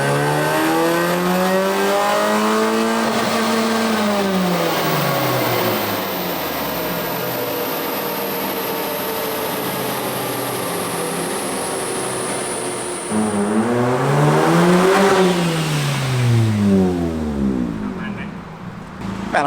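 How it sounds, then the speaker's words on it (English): A Suzuki Swift revs hard on a dyno, its engine note climbing and falling in long sweeping pulls, loud and close, with a second rising run near the end. "So they were just dynoing this Suzuki Swift"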